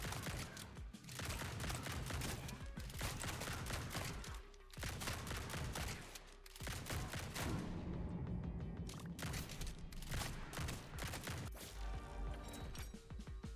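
Rapid automatic weapon fire in the survival shooter Grind Survivors, a dense, nonstop barrage of gunshots and impacts with a few brief gaps, loud and close throughout.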